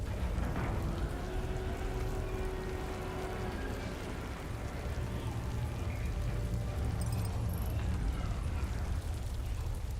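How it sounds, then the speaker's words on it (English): Rain falls steadily as a dense, even hiss with low rumble underneath, heard alone without talk. "With the rain."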